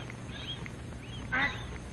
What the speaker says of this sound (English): Mother duck calls to her babies to follow her into the water.